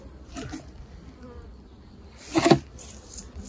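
Honey bees buzzing at an open beehive during a September inspection, a faint close-up buzz with a louder pass swelling briefly past the microphone near the end.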